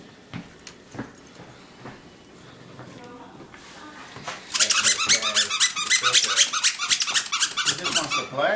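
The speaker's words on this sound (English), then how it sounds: "Where's the squeaky toy?" A squeaky dog toy is squeezed over and over in a fast, loud burst of shrill squeaks, close up, while people talk and puppies play nearby just before.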